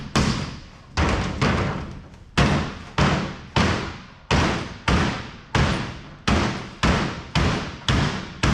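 Repeated loud metallic thuds, about one every half second to second, in a steady hammering rhythm as the curled edge of an aluminum sign is hammered flat, close up with no talking.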